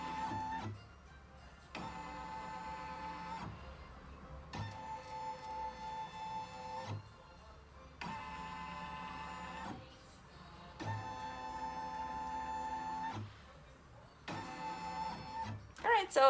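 A home embroidery machine runs its hoop outline trace, the motor whirring in several separate humming bursts of about two seconds each, broken by short pauses, close and steady.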